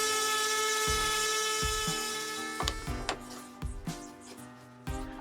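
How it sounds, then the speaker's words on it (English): An orbital sander with 40 grit sandpaper works over wooden handle holders and a backboard, giving a faint, steady whirring hum with several sharp knocks and clatters over it. "the 2 handle holders and the backboard received a rub over with some 40 grit sandpaper in my orbital sander"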